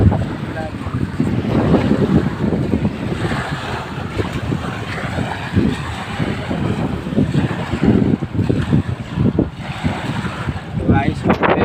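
A wooden boat travels along a river toward India, its engine and water wash rumbling under heavy gusting wind buffeting the microphone, steady and close throughout.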